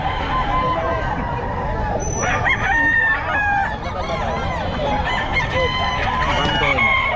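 A young ball stag rooster crows repeatedly at the Bocaue pet market, its calls ringing out amid clucking fowl and a babble of nearby voices talking.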